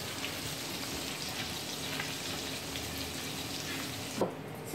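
Meatballs frying in a pan just after being turned, a steady close sizzle with faint crackling throughout and a brief louder clink near the end.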